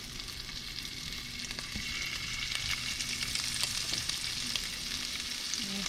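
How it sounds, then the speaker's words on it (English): Italian sausage fries in a hot buttered pan, giving a soft, even sizzle with light crackle and faint utensil taps, fairly quiet and close. "my pan is getting hot. I can add my Italian sausage"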